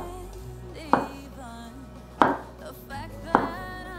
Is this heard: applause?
no